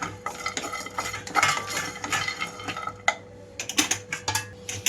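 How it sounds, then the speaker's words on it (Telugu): Sesame, fennel, cinnamon, cloves, cardamom and fresh coconut dry-roasting in a pan, stirred with a metal spoon that clinks and scrapes against the pan in quick, close, busy strokes, with no talk. "మధ్య మధ్యలో కలుపుతూ వేయించుకోవాలి"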